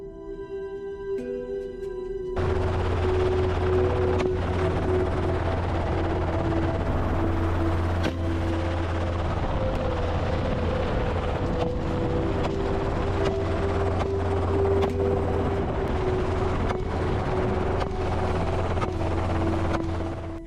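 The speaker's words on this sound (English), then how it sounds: "The helicopter used for hunting is equipped with aerial observation systems that help hunters quickly locate wild boars during the hunt." A hunting helicopter fitted with aerial observation systems, used to track wild boar over remote terrain, drones steadily with a constant low rotor and engine tone that holds loud and unbroken for about eighteen seconds after a quieter start.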